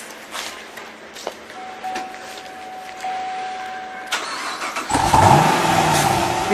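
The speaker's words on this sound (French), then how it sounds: "J'ai démarré la voiture." A 2010 Chevrolet Camaro SS cranks and fires near the end, settling into a loud, close, steady rumbling idle after a quiet stretch that holds a thin, sustained chime-like tone.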